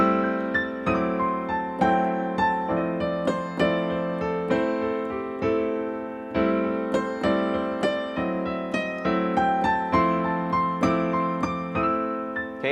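Solo piano in a slow blues feel, rolling out steady triplet figures over sustained low bass notes, evenly articulated and moderately loud, with no talking.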